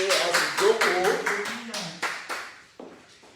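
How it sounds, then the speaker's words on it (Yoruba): A church congregation at a night vigil claps their hands in praise to God, a run of loud, evenly paced claps that slowly fade and thin out, with voices talking over them. "ẹ jẹ́ á pàtẹ́wọ́ sí ọlọ́run àwọn ọ̀run kí a sì jókòó"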